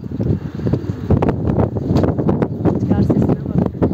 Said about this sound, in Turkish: Rüzgar sesine bak.